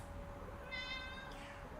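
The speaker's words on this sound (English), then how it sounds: "What are you meowing at? What do you want?" A house cat gives a single short, faint meow indoors against a quiet background.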